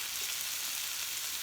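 Zucchini and squash pieces fry in a pan with a steady, close hiss of sizzling oil, the crackle constant and unbroken throughout with no voices.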